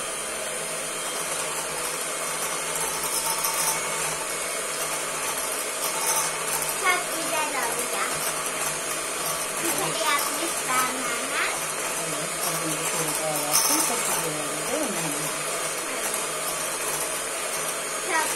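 A continuous electric mixer motor hum runs throughout, beating a milk and semolina dessert mixture, with occasional faint voice sounds underneath.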